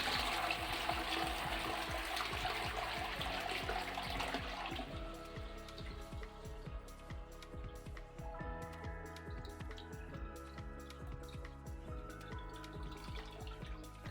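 Warm water from a ladle rinsing the inside rim of a toilet bowl, a loud splashing pour at first that thins into trickles and scattered drips up close.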